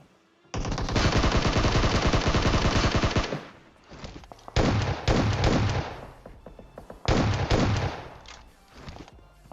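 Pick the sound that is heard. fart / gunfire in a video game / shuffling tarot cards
gunfire in a video game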